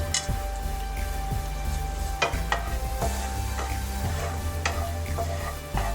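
Cardamom, cinnamon and cloves frying in about two big spoons of hot ghee, a dense continuous sizzle close up with a few sharp taps and pops scattered through.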